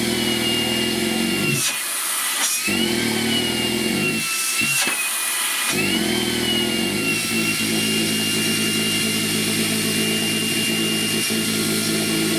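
Makita 40V CL001G stick vacuum running with a steady high whine and roar while pieces of timber are sucked up, a few brief dips and clattering bumps as the wood is picked up, loud and close.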